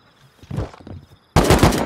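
Gunfire in an online raid defense game, a few scattered muffled shots followed by a sudden loud, dense burst of rapid automatic fire close by.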